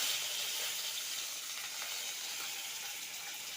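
Curry leaves, urad dal and fenugreek sizzle in hot oil for a fish curry, giving a loud, continuous hissing crackle that holds steady throughout without any voices.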